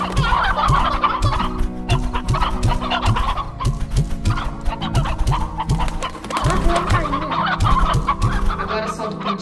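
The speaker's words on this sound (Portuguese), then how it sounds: "Pronto, solta as galinhas aí." Chickens in the video game Slime Rancher cluck steadily and loudly throughout, their dense overlapping calls set over a continuous game-music backdrop.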